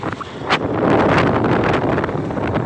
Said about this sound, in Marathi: वारा सुटला.